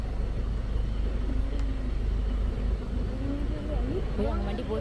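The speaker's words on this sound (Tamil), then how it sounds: "அவங்க வண்டி போகுது பாரு." A vehicle drives past on a rural road, its engine hum rising and passing close by while people chatter over it.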